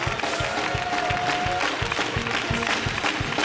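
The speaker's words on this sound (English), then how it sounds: "I want you to start clapping and dancing" Congregation at a camp meeting clapping and dancing in praise, steady rhythmic handclaps and stomping from a crowd, loud and continuous with music and voices mixed in.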